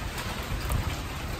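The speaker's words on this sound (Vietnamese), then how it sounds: "mưa quá trời mà" Heavy rain pours in a steady broadband hiss at a fish-trapping outing, close and continuous with no talk.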